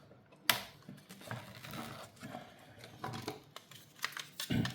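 A screwdriver works on the housing of a Fresh Air purifier, giving a string of small clicks, taps and mechanical rattles close by, with a louder knock near the start and another toward the end.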